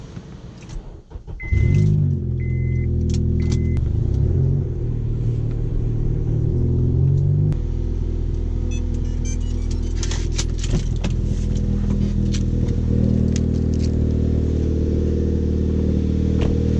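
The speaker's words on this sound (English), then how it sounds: "Sick exhaust leak" A Nissan 240 with an exhaust leak starts and idles loudly in a garage, its rough, rumbling engine sound steady and close, with a brief jingle of keys at the start.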